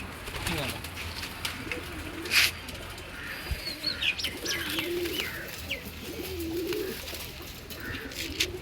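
Several pigeons coo in soft, repeated low burbles at a coop, with chirps, a brief wing flutter and faint background talk around them.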